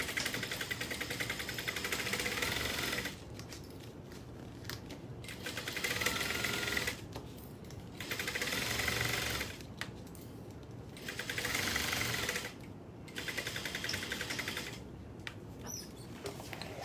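A sewing machine stitches a quarter-inch seam at a stitch length of 2.75, whirring steadily in several runs of a few seconds each, with brief quieter pauses between them.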